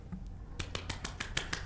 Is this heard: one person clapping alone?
yes